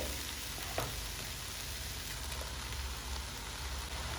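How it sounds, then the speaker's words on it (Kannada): Ground masala frying with chickpeas in a pan gives a steady, even sizzle and crackle throughout, with a faint stirring scrape or two and no talking. "ಕಡಲೆ ಕಾಳು ಎಲ್ಲ ಚೆನ್ನಾಗಿ ಫ್ರೈ ಆದಮೇಲೆ ಮಸಾಲ ಹಾಕ್ತಾ ಇದ್ದೀನಿ ರುಬ್ಬಿರೋಂಥ ಮಸಾಲೆ"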